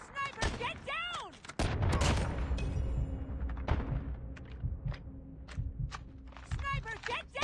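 Gunfire from a sniper in a video game cracks out in a few sharp shots among crunching footsteps and rumbling battlefield noise, with voices calling out over it.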